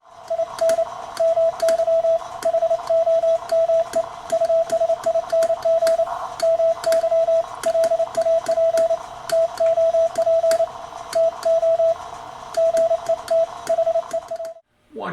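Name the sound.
Morse code sent over ham radio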